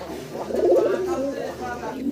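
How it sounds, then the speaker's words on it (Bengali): A pair of black Stasser fancy pigeons coo, one low warbling call rising and falling up close, with a voice speaking over it. "বাইরের কাছে আছে একজোড়া ব্ল্যাক কালার স্টেসার কবুতর"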